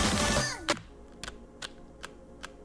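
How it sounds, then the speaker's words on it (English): Clicks from an osu! gaming keyboard with custom keycaps: after a short burst of other sound, five sharp, evenly spaced keystrokes tap out one at a time, close and fairly faint against a quiet room. "I was going to say that keyboard is crusty"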